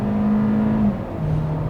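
Interior cabin sound of a 2020 Hyundai Sonata midsize sedan gaining speed, a steady low engine and road drone with a hum that drops slightly in pitch partway through, continuous and close, with no talking.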